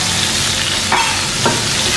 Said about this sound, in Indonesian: Bawang bombay kita masukkan duluan